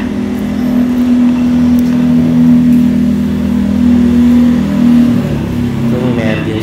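A tricycle engine revving and droning steadily at mid pitch, rising and falling slightly, while people talk over it.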